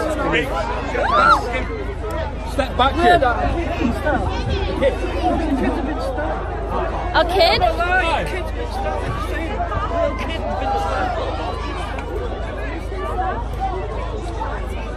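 A street protest rally crowd fills the scene with steady overlapping chatter and babble, close voices calling out briefly above the general hubbub throughout.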